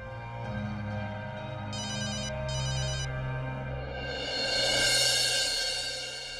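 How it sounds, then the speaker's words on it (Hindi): A phone ringtone sounds in two short, evenly spaced electronic bursts over a low background bed, followed by a swell of louder ambient noise, with no speech. "फोन उठाओ"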